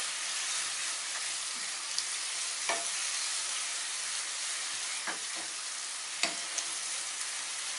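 Bottle gourd halwa with milk stirred in a pan over high flame, a continuous soft frying hiss broken by occasional scraping strokes of the spoon, close and with no talking.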